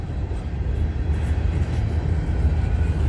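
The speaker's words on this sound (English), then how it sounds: "This train also got some well cars, which is intermodal well cars." A CN freight train carrying box cars and intermodal well cars rolls past at Snider, Milepost 23 on the CN York subdivision, a continuous low rumble with rolling wheel noise, steady and fairly close, no voices.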